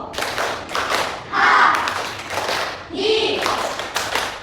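Fourth-grade pupils stamp their feet and clap during a classroom ice-breaking game, repeated rhythmic thumps and claps across several beats, mixed with chanted voices, near and loud.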